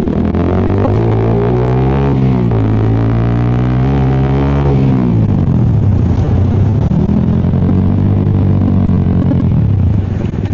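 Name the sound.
motorcycle engine roaring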